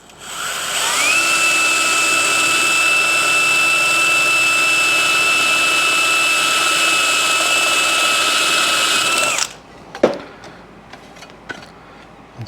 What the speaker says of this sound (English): I'm just going to try to drill that with a step drill.